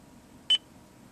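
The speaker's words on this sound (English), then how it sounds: "After the beep, please say a command such as" Single short electronic beep from a Lexus HS250 voice-command system, a clean tone lasting under a tenth of a second against quiet cabin background, no talk.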